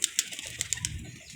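A pigeon close by makes a string of short, sharp flutters and clicks, with a soft, low cooing murmur underneath; no talk.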